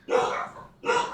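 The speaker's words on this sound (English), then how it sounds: "Sorry about the dogs barking." Two dogs bark indoors at a delivery, two loud close barks about a second apart with a brief pause between, and no talking.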